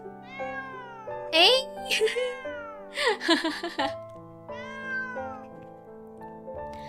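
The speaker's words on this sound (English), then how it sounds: "A small white cat looks up at me with round, shiny eyes." A small white cat in a video game meows repeatedly in bright, high-pitched calls with some overlapping musical tones, and a short spoken exclamation sounds partway through.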